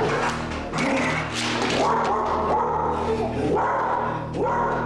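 A dog barks and yips repeatedly in short bursts over a steady background hum, fairly close, indoors in a living room.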